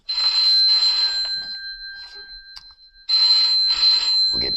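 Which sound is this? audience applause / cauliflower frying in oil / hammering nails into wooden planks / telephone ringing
telephone ringing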